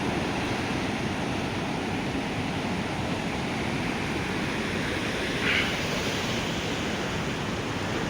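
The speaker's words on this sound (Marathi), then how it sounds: "प्रचंड भरून तेरणा नदी दुथडी भरून वाहत आहे." Flooded Terna river running bank to bank beside a road, a steady broadband rush of flowing water that stays loud and even throughout with no voices.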